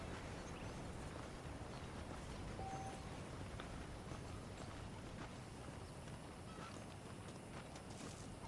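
A horse trots along in Red Dead Redemption, its hoofbeats a faint, steady clip-clop beneath a soft wash of background noise.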